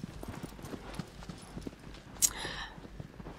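The horse Agro gallops in the video game Shadow of the Colossus, a close, quick rhythm of clip-clopping hooves with a brief sharp whinny or squeal partway through.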